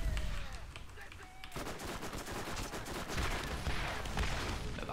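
Gunfire in the video game Borderlands: rapid automatic bursts, loud and close, hammering on almost without pause, with a short lull early before dense firing resumes.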